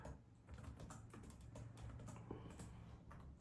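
Someone types C++ code on a computer keyboard, a quiet irregular patter of key clicks with no talking.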